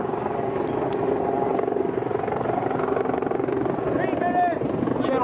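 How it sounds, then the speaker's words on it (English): A helicopter flies over a 1991 University of Minnesota flag football game, its rotor drone loud and steady throughout beneath crowd voices and chatter. "They couldn't send out the blimp, so they sent a helicopter."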